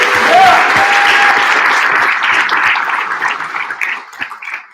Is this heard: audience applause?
yes